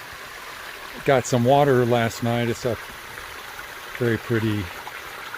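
A flowing mountain stream on the Appalachian Trail makes a steady, soft rushing wash, with someone briefly speaking over it.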